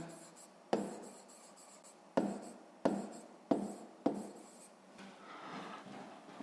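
Pen or pencil scratching on paper while an explanation for a sixth-grade maths exercise is written out by hand, close and quiet, with a few sharper taps between stretches of steady rubbing strokes.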